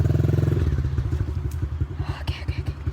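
A dirt bike engine chugs in first gear along a muddy trail, a close, steady, pulsing putter with occasional clatter and thumps from the terrain.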